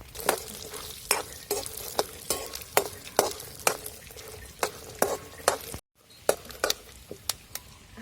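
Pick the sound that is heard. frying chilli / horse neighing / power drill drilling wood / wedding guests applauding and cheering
frying chilli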